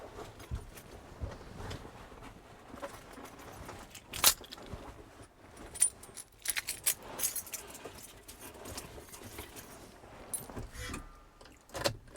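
Keys jangle in intermittent metallic rattles and clinks during an outdoor hedge-trimming workday, fairly close, with a few sharper jingles spread across a quiet background.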